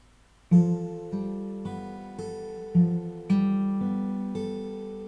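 Fingerstyle acoustic guitar plays the opening two measures of a song from Final Fantasy X, a slow melody of sustained plucked notes and chords struck about every half second, clear and close with no talking.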